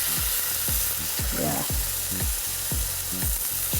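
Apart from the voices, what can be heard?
marinated meat sizzling in cast iron pan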